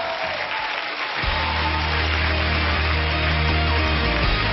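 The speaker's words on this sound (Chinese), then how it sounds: "掌声欢迎我们五位悠悠达人" Studio audience applause erupts on a Singapore TV variety show, welcoming five yo-yo performers onstage; dense, loud clapping builds after a brief lead-in and holds steady throughout.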